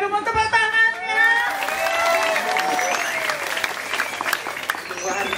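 Audience applause at a Balinese comedy stage show (lawak Bali), dense clapping from a crowd filling the whole stretch, with a voice and some cheering mixed in over it.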